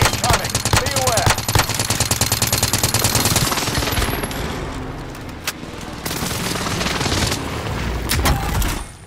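Xbox war-game battle with continuous rattling machine-gun bursts and scattered gunshots, then booming airstrike explosions, loud and close, the firing thinning in the middle before heavy blasts return near the end, with a game voice speaking briefly.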